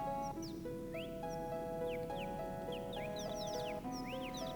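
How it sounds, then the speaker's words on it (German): Birds chirp in the Final Fantasy VII game world: quick repeated tweets and short whistled notes over a sustained musical background, faint and steady. "Wenn ihr hört, hat es da Vögel."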